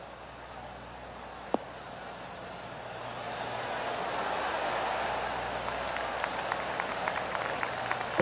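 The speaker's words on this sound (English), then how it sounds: "That deserves a golf clap." Applause for a golf shot in PGA Tour 2K23 builds gradually from a quiet crowd murmur into a broad, steady wash of distant clapping, with one sharp click near the start.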